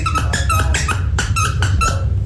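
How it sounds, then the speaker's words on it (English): A dog plays with a squeaky toy, producing a rapid series of sharp, close squeaks in uneven bursts over a steady low background rumble. "6 minutes of a squeaking toy."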